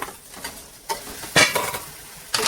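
Chicken pieces go into a pan of onion paste and get stirred, giving a few scraping, wet stirring bursts and a soft sizzle, fairly close with no one talking.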